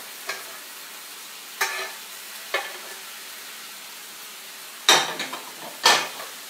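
Shrimp going into a pan of sizzling butternut spaghetti squash, five sharp scraping and clattering bursts over a quiet background hiss, the last two loudest, with no speech.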